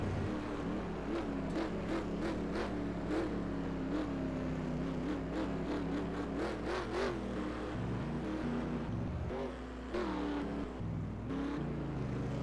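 Several NASCAR stock cars in the NASCAR Racing 2003 game drive onto pit road at Wall Stadium, engines droning and revving steadily close by as cars slow and pull in, with no voices over them.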